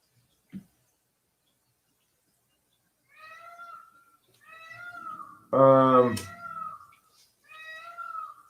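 A cat meows several times in a row, short rising calls spaced across a few seconds, fairly close, with one louder, longer cry in the middle and a brief knock near the start.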